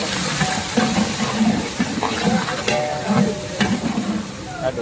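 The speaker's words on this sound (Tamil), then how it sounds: "இதில் எண்ணெய் ஊற்றி கொஞ்சம் சோம்பு, ஏலக்காய், கருவேப்பிலை போட்டு நல்லா தாளிச்சிக்கணும்." Fennel seeds, cardamom and curry leaves tempering in hot oil for a large batch of Kongu-style chicken gravy, giving a steady, dense sizzle with light crackles and stirring scrapes throughout, with no voices.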